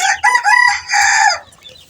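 A rooster crows once, loud and close, in a long harmonic call that fades at the end, with no talking, among backyard chickens being raised for eggs.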